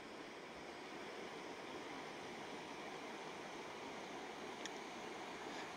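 A river in the Hoh Rain Forest of Olympic National Park rushes steadily past a campsite a short drop below, a constant close, broadband wash of flowing water with no voices.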